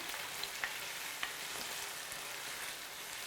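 Olive oil heats in a frying pan and gives off a faint, steady, quiet sizzle, with a few soft ticks and pops scattered through it and no voices.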